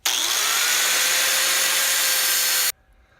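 An angle grinder cuts a straight line through material in one loud, steady, high whine lasting nearly three seconds, then stops abruptly.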